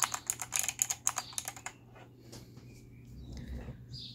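Arrow keys on a SteelSeries Apex 5 keyboard tapped in a fast cluster of close clicks over the first second and a half, then only faint room noise.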